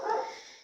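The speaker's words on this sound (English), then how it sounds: "I'm sorry, that's my dog." A pet dog gives a single short, quiet bark indoors, heard alone with no talking.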